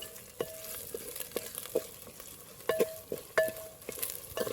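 Ginger and shallot paste being stirred into a frying pan for Andhra-style fish curry, with repeated spoon scrapes and clinks over a steady background sizzle, fairly close and without speech.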